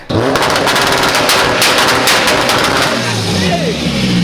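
A tuned Toyota Chaser with a 1JZ engine revs outdoors, its exhaust firing a rapid, loud machine-gun string of pops and crackles close by, with a voice shouting over the noise.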